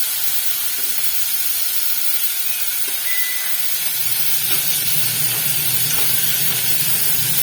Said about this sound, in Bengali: এবারে আমি আগে একটু প্রথমে অল্প বাটার দিয়ে আমি এটাকে একটু নাড়াচাড়া করে নেব